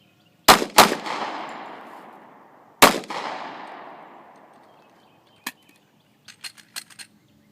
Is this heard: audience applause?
no